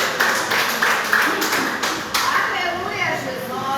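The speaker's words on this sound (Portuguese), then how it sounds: "palmas para Jesus." A Pentecostal congregation claps hands together during a church service in Guará, SP, a dense, rhythmic patter of many palms with a few louder accented claps, heard under a voice talking over it.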